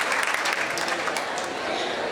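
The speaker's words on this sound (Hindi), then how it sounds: "एक बार तालियां बजा दे" Audience clapping at a Maharana Pratap Jayanti community celebration in Mulund, Mumbai, a dense steady burst of applause for about two seconds with crowd voices mixed in.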